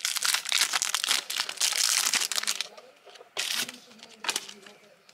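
Plastic packaging of a sticker pack crinkles and crunches close up in bursts of handling, dying down after a few seconds and then returning in a couple of shorter rustles.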